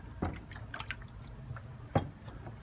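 Hydrogen peroxide dripped onto a cyanotype print, two soft wet drips about two seconds apart, close and faint against a quiet room.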